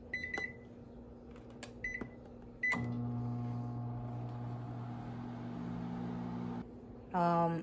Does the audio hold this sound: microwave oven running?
yes